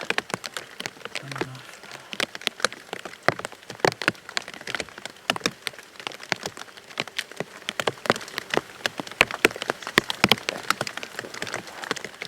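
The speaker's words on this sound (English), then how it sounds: "In the rain, what fun!" Rain falls on outdoor surfaces as a dense patter of sharp, irregular drops, some close and crisp, scattered over a soft wet background without any voices.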